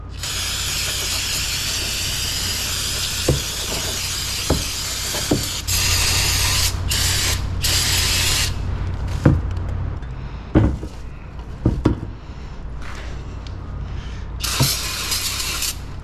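Cleaner sprays onto a Ferrari F430 engine during valve cover gasket work, bursts of close hissing spray broken by pauses, clicks and light knocks of handling, with no talking.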